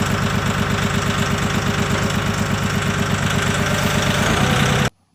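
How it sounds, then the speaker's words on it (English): A tractor engine idles steadily with a rhythmic low chugging pulse, close and loud and with no talk, then cuts off abruptly near the end. "I will now lower down the tractor and we should be good to go."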